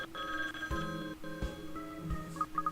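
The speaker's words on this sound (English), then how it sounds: "Oh, that's the phone." A telephone rings repeatedly in the puzzle adventure game Layton's Mystery Journey, a steady electronic ringing with bright tonal pulses over a faint musical background, no voices.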